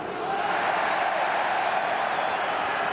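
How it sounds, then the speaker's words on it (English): Steady roar of a large football crowd applauding inside the Bernabeu stadium in Madrid during a Real Madrid home match against Sevilla, a dense continuous wash of clapping and cheering with no break. "Applause."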